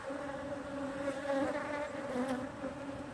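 Honey bees buzz steadily around a hive holding a newly installed queen, a close, continuous droning hum of many insects with no voices.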